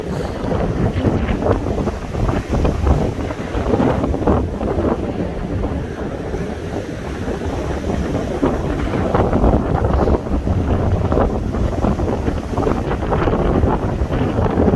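Strong winter storm wind roars continuously across a Vancouver beach, buffeting the microphone with heavy low rumble and gusts, with surf and waves churning beneath it throughout.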